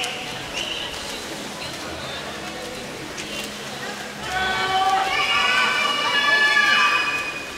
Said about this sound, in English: His teammates cheering him on here.